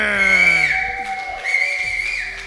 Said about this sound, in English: that whistle is louder than me